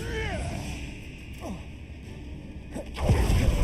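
A summoning spell cast in the Hogwarts Legacy video game, heard as a couple of quick magical whooshes and swishes ending in a louder swell, all close up.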